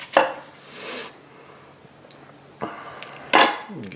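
An 8-inch Kramer by Zwilling stainless Damascus chef's knife cutting food on a board, a few separate close slicing strokes and sharp knocks with quiet gaps between them.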